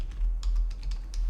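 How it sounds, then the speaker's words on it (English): A burst of quick, light keystrokes on a computer keyboard, close and fairly quiet, about half a dozen clicks in just over a second. "I have to type"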